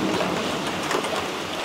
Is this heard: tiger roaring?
no